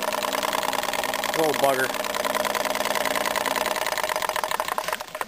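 A rare P.T.C. power tire pump driven by a 1915 Century motor runs steadily with a busy mechanical whir and rhythmic knocking, close up, while someone speaks briefly over it.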